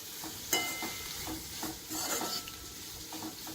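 A short burst of dry stirring as coconut roasts in a pan, soft scraping strokes with a faint sizzle underneath, quiet and close.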